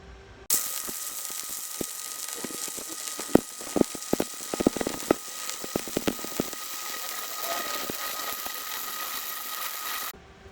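Flux-cored gas-shielded welding running uphill with an Everlast Thunder 255 MTS welder, a steady crackling arc hiss lasting about ten seconds with irregular pops and spatter bursts, close by with no talking.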